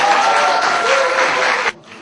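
An audience at a Korean speaking contest for international students at Hanseo University claps for an award announcement, a dense, steady burst of applause lasting under two seconds that cuts off abruptly into quiet.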